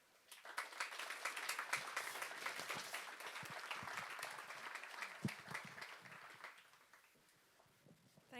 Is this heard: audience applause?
yes